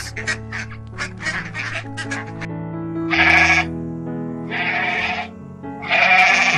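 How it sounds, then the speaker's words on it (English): A goat bleating in loud, drawn-out wavering calls, three long cries following a quicker run of shorter bleats, close to the microphone. "goat"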